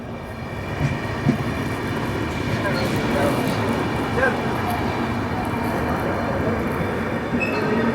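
Vidarbha Express pulling into platform 3 at Manmad Junction, a continuous loud rolling rumble of the coaches with faint wheel squeal and station voices in the background.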